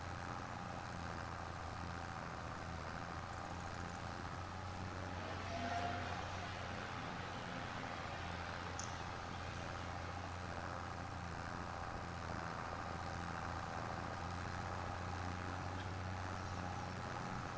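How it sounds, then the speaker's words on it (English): A tractor engine in Farming Simulator 25 strains under a heavy load, giving a steady low drone with a constant hum for the whole stretch. "the tractor is struggling a little bit with the weight"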